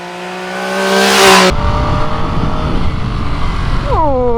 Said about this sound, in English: 3-cylinder, 140 horsepower, awesome sounded, awesome looking bike.